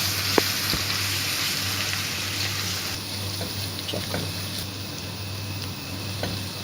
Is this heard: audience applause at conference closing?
no